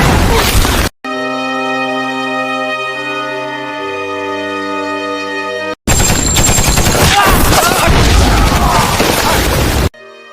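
Gunfire rages in a war film battle scene where Japanese and Korean soldiers charge German troops. Loud, dense bursts of shots open and close the clip, with sustained tonal music playing alone between them.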